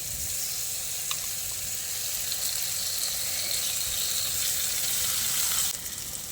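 Ground pointed gourd pulp goes into hot masala that has released its oil, producing a steady loud sizzle that drops slightly near the end, with no voices.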